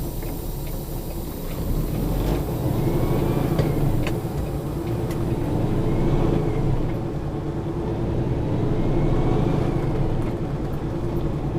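Semi truck with a failing clutch pulling away slowly in first gear while hauling a trailer, a steady loud diesel drone and rumble heard from inside the cab, with no talk.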